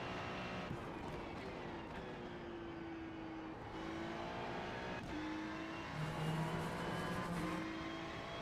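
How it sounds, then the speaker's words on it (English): A Ferrari 296 GT3 racing engine in the iRacing video game drones steadily with shifting pitch at Watkins Glen, rising through the gears in smooth tonal sweeps, a constant hum at moderate volume. "The Corvette sounds more like the Ferrari than the Ferrari does."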